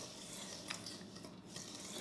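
Melted butter being stirred into graham cracker crumbs for a cheesecake crust, a steady close scraping and rubbing with a soft clink near the middle, alone without talk.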